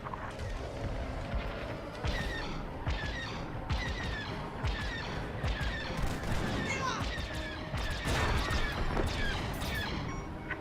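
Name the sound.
laser covering fire in Star Wars Squadrons video game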